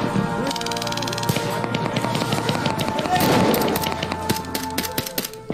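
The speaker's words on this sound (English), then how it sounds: "Okay, that was a blank fire." A blank-firing gun shoots in rapid succession at an airsoft event, producing a loud, dense burst of sharp cracking reports that continues for several seconds with only brief pauses.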